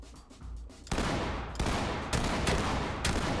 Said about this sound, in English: he's shooting from behind.